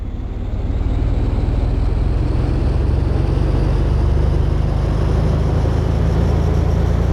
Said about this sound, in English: Loving how loud the engine is